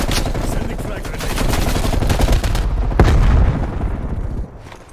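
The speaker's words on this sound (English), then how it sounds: "Sending frag grenade." Frag grenade blast mixed with dense automatic gunfire in Call of Duty Black Ops Cold War on the Nuketown 84 map, loud and continuous, with a sharper boom near the middle before the fire tails off.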